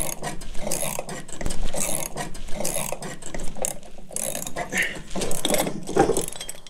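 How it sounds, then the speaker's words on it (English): A ratchet clicks in quick, uneven bursts while working on the mower spindle of a John Deere E180 riding mower, with close, loud mechanical rasping and metallic handling noise throughout. "now we should be able to use a ratchet. It's working!"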